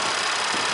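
Hyundai Kona 1.6-liter turbo engine idling with the hood up, its direct-injection system giving off a steady, fast mechanical ticking over a broad engine hum, close and fairly loud throughout.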